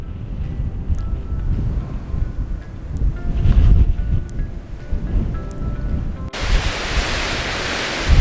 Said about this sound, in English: it's all of a sudden got very windy up here